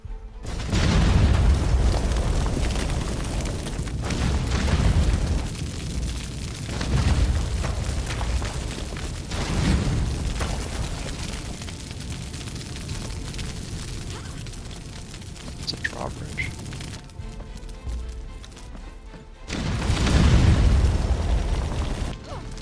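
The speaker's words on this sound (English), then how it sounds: "Bombs away!" Bombs going off in the video game Conan Exiles during a PVP base raid: loud, deep booming blasts in repeated bursts, the heaviest near the start and again near the end, with rumbling between.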